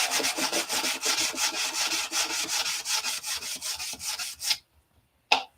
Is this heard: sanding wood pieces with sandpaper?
yes